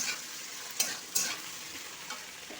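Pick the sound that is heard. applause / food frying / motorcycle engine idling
food frying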